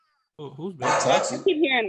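A pet dog barks and yips close by in a home, with a few short excited barks under and between a person talking.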